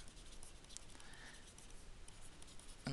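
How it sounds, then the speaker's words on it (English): Pen or marker writing by hand during a math lesson on exponential functions and logarithms, a faint continuous scratchy stroke sound with a louder tap near the end, no talking. "Let me write that out there."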